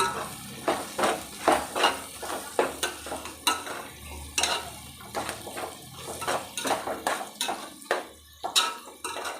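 Egg pieces being fried in a masala in a pan for egg fried rice: a steady sizzle broken by frequent, fairly loud scrapes and clinks of a spoon stirring against the metal, with no talking.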